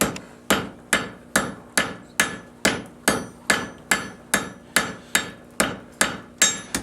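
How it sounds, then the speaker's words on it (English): Rhythmic hammer strikes on hot metal at an anvil, about two per second, each ringing sharply and decaying before the next blow, with no talking. "As I hammer it, I'm only making quarter turns to put the point on."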